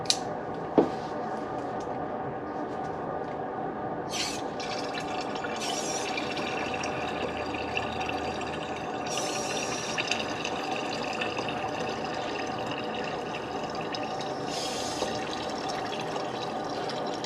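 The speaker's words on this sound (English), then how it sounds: "So what that compressed air is doing, it's pushing that fluid through." Coolant being pushed by compressed air through the cooling system of a GM Ecotec engine, a steady liquid gurgling and filling sound with occasional hissy bursts of air, continuous and close for the whole stretch, with no talking.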